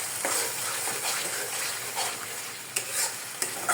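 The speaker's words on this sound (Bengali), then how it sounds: "তারপর সুন্দর করে ভাজা ভাজা করে নেব যাতে তেল উঠে যায়" Green banana peel mash with roasted spices frying and being stirred in oil, a steady loud sizzle with occasional sharper scraping and tapping of the spoon against the pan, no voices.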